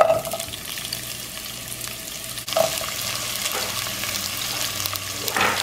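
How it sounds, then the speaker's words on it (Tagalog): Chopped onions sizzle steadily in a hot pan for a beef stew, a continuous close crackling hiss with a few louder bursts as they are stirred. "Okay, magigisa na tayo. Unahin natin ang ating sibuyas."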